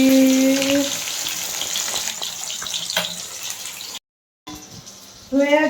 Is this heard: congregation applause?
no